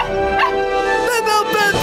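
Cartoon lost puppies in a temple yipping and barking in short bursts, mixed with music and a voice, fairly loud and close throughout.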